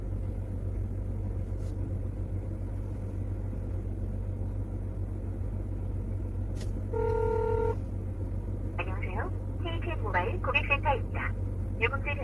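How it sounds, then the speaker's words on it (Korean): A phone call placed through car speakers from a CarPlay monitor plays a short tone through the cabin, followed by a ringing tone pulsing in bursts, all over a steady low engine hum. "전화를 한번 걸어보도록 하겠습니다"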